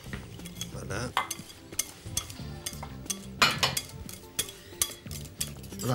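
A spoon mixes a mandarin-and-almond preparation with whipped cream in a bowl, giving repeated clinks and scrapes in an uneven rhythm, close up, with a soft tonal hum underneath.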